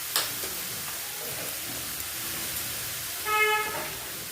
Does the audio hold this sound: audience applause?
no